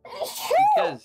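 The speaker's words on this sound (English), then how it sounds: "I'm so sorry for sneezing on you guys." A person sneezes once, a short voiced burst rising in pitch, close to the microphone during an online community game night.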